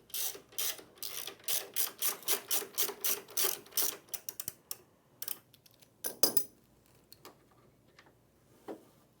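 A hand tool loosens the shoulder bolt holding the brush on an ATLAS floor buffer, giving a quick, regular run of sharp ratcheting clicks that thins into irregular, sparser ticks.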